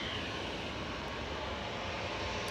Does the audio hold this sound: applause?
no